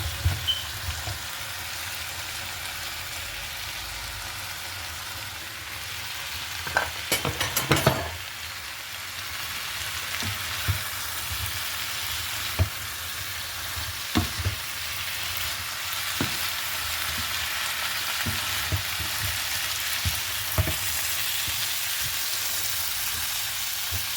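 Fried chicken pieces sizzle steadily as they are tossed and stirred in a pan for chicken kondattam, with scattered sharp scrapes and clinks of a utensil against the metal over a continuous frying hiss, no voices.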